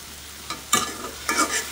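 A spatula scrapes and stirs greens with onion, green chilli and garlic in a zinc kadai, two or three distinct clattering strokes over a soft background sizzle, close and fairly loud.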